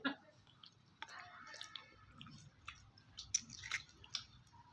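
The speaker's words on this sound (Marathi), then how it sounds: "4-5 वेळा चावून सुद्धा अखंड आहे." A hard, tough sweet puri being chewed, with faint, irregular crunches and moist squishing bites at close range, quiet and uneven throughout.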